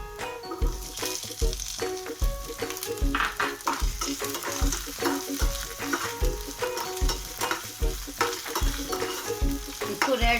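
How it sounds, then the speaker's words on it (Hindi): Onions frying in oil in a pan over a medium gas flame, a close, continuous sizzle broken up by rhythmic scraping and stirring strokes about every half second, with no voices. "अब इसमें हम डालेंगे ये प्याज"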